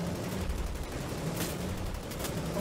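Turret gunfire in the shooter Wolfenstein: The New Order, a continuous rapid rattle of shots with a few sharper bursts, loud and steady throughout.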